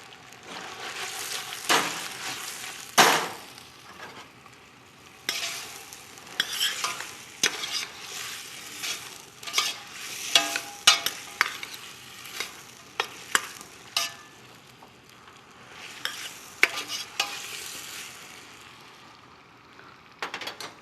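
Cauliflower sautéing in a pan during a cooking demonstration aboard a cruise liner, a steady sizzle with repeated stirring scrapes and clatters, close and continuous with no talk.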